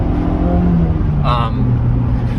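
A 1991 Honda CRX engine hums and revs under acceleration, steady and close, with a brief higher whine partway through.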